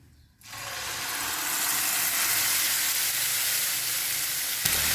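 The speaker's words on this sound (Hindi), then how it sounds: "तो यहाँ पर देखिए कड़ी पत्ते को मैंने तड़का दे दिया।" Loud, steady sizzling of curry leaves hitting hot oil for a tempering for coconut chutney, a dense broadband crackle that swells in after a brief quiet start and holds without talk.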